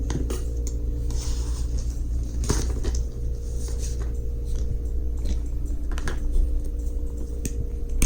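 Small sharp clicks and snips from cutting a little metal tab on a diecast toy car, several quiet ticks scattered irregularly against a steady background hum.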